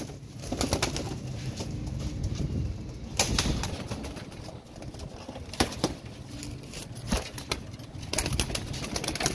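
Royal Teddy breeder pigeons, ringed pairs, coo up close in repeated soft bursts, joined by occasional sharp wing flaps and clicks, with no talking.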